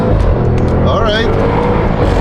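A family car with 700 Newton-metres of torque accelerates hard on a private empty road, its loud, constant engine and road roar filling the cabin as people talk over it.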